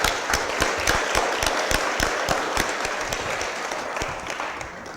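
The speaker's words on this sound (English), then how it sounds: "Let's give them a big round of applause" Applause at a Board of Aldermen meeting for an alumni chapter, close, crisp individual claps over a steady round of clapping that tapers gradually.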